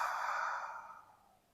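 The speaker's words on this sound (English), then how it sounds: "Audible exhale." A single long, soft audible exhale during guided breathing, close and breathy, fading gradually to quiet over about a second and a half.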